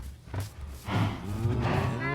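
Several cows moo in a long, loud, drawn-out chorus, starting with a brief low call and then swelling into overlapping lowing that carries on to the end, with no talk.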